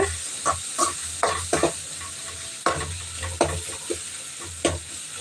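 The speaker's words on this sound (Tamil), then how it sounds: "நம்மளுடைய தக்காளி வெங்காயம் எல்லாமே இதில் நல்லாவே வதங்கிடுச்சு" Tomato and onion sauté in a pan for a squid stir-fry, with repeated spatula scrapes and stirring strokes at a regular pace over a constant close sizzle, and no voices.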